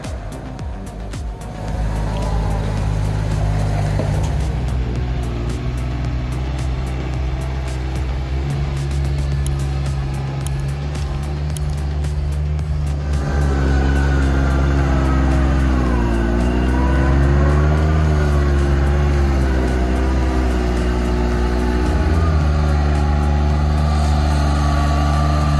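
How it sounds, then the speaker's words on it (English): An 822/8WD mini tractor reverses uphill loaded with timber, its engine droning loudly and steadily and straining up through rising and falling revs, heard alone. "Seeing it reverse uphill while loaded with timber is a true game changer"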